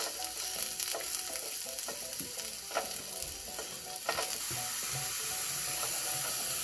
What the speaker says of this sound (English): add in your mushrooms. Sautee those until they're cooked down